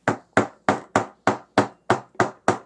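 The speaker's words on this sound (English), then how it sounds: "hammer that in there." Nine sharp hammer strikes drive a piece into place during a craft build, evenly spaced and close, each hit decaying quickly in a steady rhythm with no talk.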